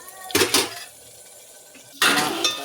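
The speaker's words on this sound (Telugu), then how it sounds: "బాగా కలుపుకోవాలి." Moong dal and onion being stirred in a cooking pot: two separate bursts of scraping and rattling against the metal, with a quiet pause between them and no talking.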